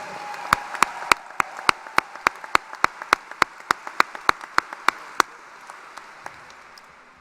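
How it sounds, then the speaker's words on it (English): Sparse, slow clapping from a few people at a technical center high school graduation for students in programs like firefighting, roughly two dozen evenly spaced claps that thin out near the end, with no voices over them. "Please give them all a round of applause."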